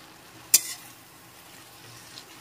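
Maggi noodles for a cheese Maggi dish are stirred in a pan. One short, sharp scrape of a utensil stands out over a faint, steady sizzle.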